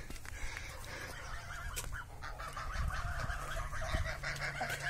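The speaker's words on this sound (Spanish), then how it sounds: "Mira, el Agustín, el pavo Agustín." Turkey calling outdoors on a farm with goats and cattle, repeated nasal honking gobbles rising and falling over a low rumbling background, fairly faint and alone without talk.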